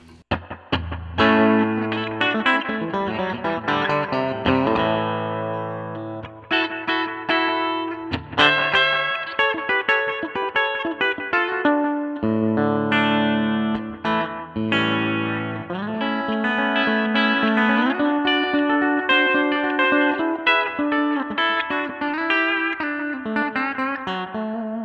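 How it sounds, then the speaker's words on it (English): An overdriven Wilkins electric guitar with Seymour Duncan Classic 50s pickups plays busy riffs and chords alone, loud and biting with sustained distorted notes throughout. "They're warm, and when you crank into them, they will bite, as you'll hear when Matt goes through the"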